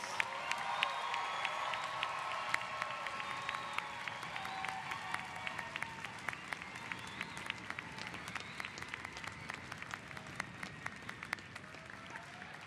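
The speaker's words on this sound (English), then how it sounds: "Let's give them one more round of applause." Sustained applause from a large audience honoring graduates at a December fall commencement ceremony, steady dense clapping throughout with a few louder individual claps and faint crowd murmur beneath.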